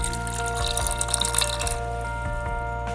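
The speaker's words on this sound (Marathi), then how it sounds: "अजून थोडंसं आपल्याला पाणी घालायचं आहे." Water pours and trickles into a metal pressure cooker over a steady electrical hum, with faint drips and splashes throughout.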